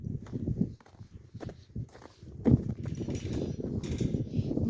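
Horses walk close by, hooves clip-clopping in an uneven, overlapping rhythm over steady outdoor background noise.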